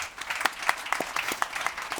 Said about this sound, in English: Big applause for Hans.